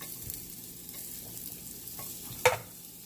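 Vegan steak and onions frying in canola oil, a soft continuous sizzle with faint scrapes and one sharp clack of a utensil against the pan near the end, close and fairly quiet, no voices.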